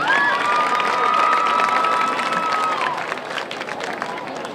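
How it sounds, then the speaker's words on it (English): A crowd in the stands at a high school football game cheers and applauds for senior cheerleaders. A loud, sustained roar of clapping and shouting is joined by a long whistle and gradually eases off toward the end. "Let's have a big round of applause for our senior cheerleaders."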